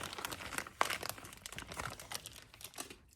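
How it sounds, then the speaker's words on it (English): Plastic wrappers on individually packaged frozen wax candy crinkle close up while scissors work to open them, with dense rustling, small crackles and one sharp snip-like tick. "So I brought some scissors to try to make it easier to open them."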